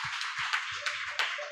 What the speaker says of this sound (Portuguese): Aplauda o Senhor com alegria nessa noite